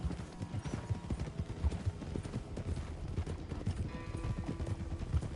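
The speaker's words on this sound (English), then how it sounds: "Get a hold of that horse, will you?" Horse hooves clip-clopping steadily in Red Dead Redemption 2, a dense, continuous run of hoofbeats close by with no talking over it.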